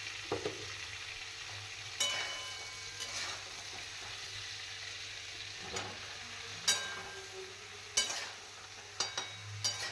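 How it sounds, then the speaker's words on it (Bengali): Pumpkin and eggplant frying for a Bengali neem sukto, stirred in a pan; a steady, fairly quiet sizzle is broken by scattered scraping stir knocks, with no talking. "কুমড়ো বেগুনটা দিয়েও কিন্তু এটাকে ভালো করে ভাজবো।"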